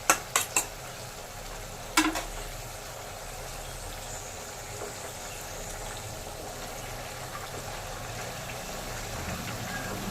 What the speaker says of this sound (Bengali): দশ মিনিট হয়ে গেলে আমি ঢাকা খুলে একবার নেড়ে চেড়ে নিচ্ছি